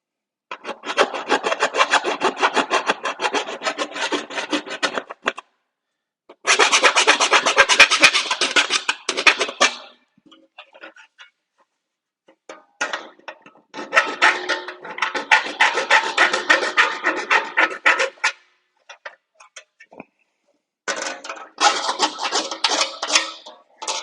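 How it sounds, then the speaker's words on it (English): A deburring tool scraped along edges gives loud, close rasping strokes in four long bursts, each a steady gritty scrape, separated by brief silences. "I'm just going to deburr everything so that I don't cut into the bag."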